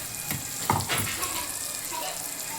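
Ground spice paste sizzles as it fries in a pan for a brinjal and green pea curry, a bright, busy hiss with a few scraping stirs close by, without speech.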